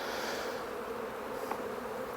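A steady, close drone of many honeybees rises from an open beehive during a spring inspection, unbroken and alone.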